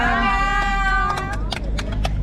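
A cat meows several times over a steady low hum, the cries coming in short, close bursts as someone speaks nearby.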